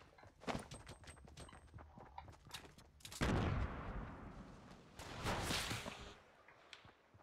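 A sharp sniper rifle crack in the Fortnite video game, followed by a longer rumbling report and a second loud burst, heard over busy game noise and small clicks.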